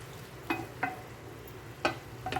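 Fried bhetki fish pieces being stirred in a pan, a few soft scraping clacks of a spatula over a faint, low sizzle, quiet and close.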